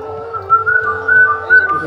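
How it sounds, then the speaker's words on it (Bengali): A recorded kingfisher call plays from a speaker at a science city exhibit in Agartala, Tripura, a brief loud whistling tone with slight warbles over a low hum. "মাছরাঙা পাখির ডাক,"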